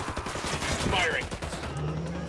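Gunfire in the tactical shooter Ghost Recon Wildlands, a dense stretch of distant rattling shots under game chatter and a voice over the radio, with steady background battle noise throughout.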